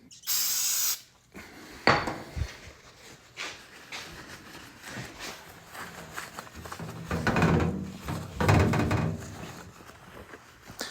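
Brake cleaner sprays onto a microwave plate in a short loud hiss burst at the start, followed by scattered clunks, scraping and handling noises up close.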